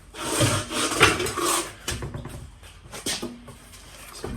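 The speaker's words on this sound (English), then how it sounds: "slide it in, line up the studs, push it on" A car wheel is slid onto the hub studs during a flat tire change, giving a series of close scraping and clunking metal contacts, louder at first and then tapering into lighter knocks.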